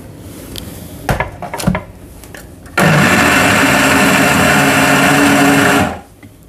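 Electric mixer grinder whirring loudly and steadily for about three seconds as it blends strawberries with milk, starting abruptly after a few clinks and handling noises and cutting off at the end.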